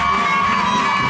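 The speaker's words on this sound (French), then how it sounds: "Des applaudissements, s'il vous plaît, pour vos gamins." Carnival crowd in Guadeloupe cheering and applauding for costumed children, a brief, loud burst of mixed shouts and clapping that fills the moment without a break.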